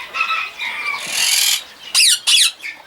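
Shrill rose-ringed parakeet squeals and squawks, several overlapping calls, with two loud sharp bursts near the end; no talking.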